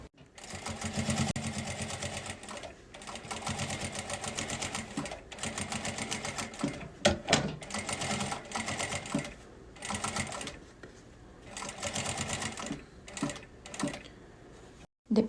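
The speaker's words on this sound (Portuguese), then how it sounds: "Agora, a gente vai passar aquela costurinha." Domestic sewing machine stitching a small fabric bonbon holder, bursts of rapid needle chatter in several runs separated by short pauses, fairly close and moderately loud.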